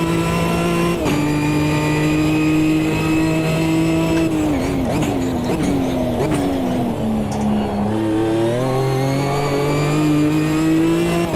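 A GT4 race car in Automobilista 2 revs loudly and continuously, the engine pitch climbing and dropping through gear changes and easing back on throttle, close and alone without talk.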